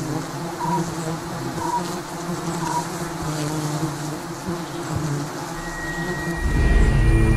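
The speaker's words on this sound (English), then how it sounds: "These giant stinging honeybees have been known to attack anything that's perceived as dangerous to their queen." A swarm of giant stinging honeybees drones in a dense, continuous buzz with wavering tones, and a louder low rumble swells near the end as the swarm grows more agitated.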